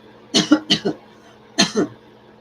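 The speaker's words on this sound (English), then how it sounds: "which is why I'm coughing" Several harsh coughs: a quick burst of three or four, a pause, then two more, close and fairly loud against a quiet background.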